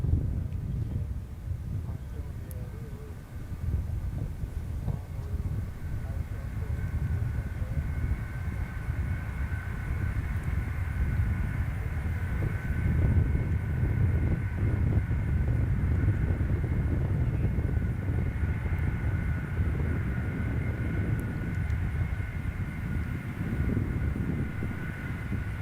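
The NASA shuttle carrier aircraft, a large jet, arrives at Kennedy Space Center with a steady, fairly distant roar and a constant high engine whine. Wind rumble runs under it for the whole clip, and there is no talk.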